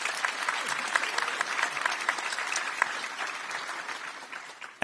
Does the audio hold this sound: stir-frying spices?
no